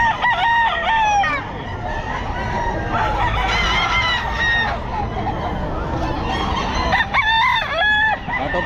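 Gamefowl roosters crow loudly and repeatedly at the Bocaue pet market, several long calls overlapping near and far amid clucking and a busy crowd, with people talking in the background.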